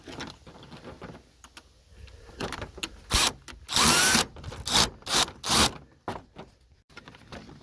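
A power tool spins out a 10mm bolt from a Ford Falcon FG headlight in several short whirring bursts, loud and close, separated by pauses with faint handling clicks.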